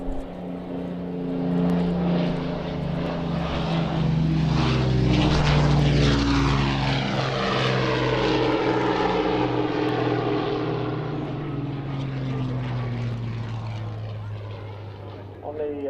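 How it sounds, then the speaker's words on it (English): A Mirage 2000 jet aircraft flying past at an air display, its engine roar swelling loud overhead then fading as the tone sweeps downward, with people talking over it. "you see that as the aircraft flies past"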